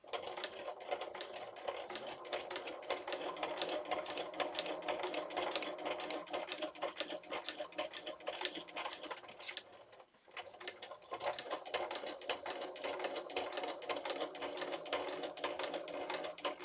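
A sewing machine stitches through the paper pages of a tall, skinny accordion booklet, giving a steady rapid mechanical ticking that runs nearly continuously up close, with a brief pause partway through before the stitching resumes.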